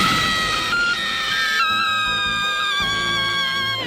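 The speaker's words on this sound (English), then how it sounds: "her scream is already chilling, but then you add the beep of the battery dying on top of that" A woman's anguished scream from the anime film The End of Evangelion, followed by a steady, high electronic beep of a dying battery that overlaps the scream and repeats through the rest of the moment, loud and close.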